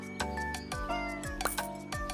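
A cat meows several times in the video game Minami Lane. The cries are short, tonal and rising then falling, repeating at an even, close pace over soft game music.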